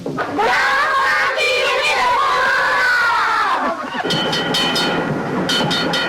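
A train rumbles past with a loud, steady rush, followed by rhythmic clattering wheels, as a crowd murmurs and calls out in the background at a homecoming weekend gathering on Main Street in steady rain.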